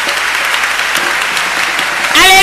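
Worship congregation breaks into loud, sustained applause acclaiming Jesus, a dense wash of clapping throughout, joined near the end by a rising sustained tone.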